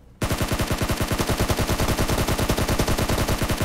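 Rapid automatic gunfire in a mobile shooter video game, a loud, close, continuous burst of evenly spaced shots that starts abruptly and keeps a fast, regular rhythm throughout.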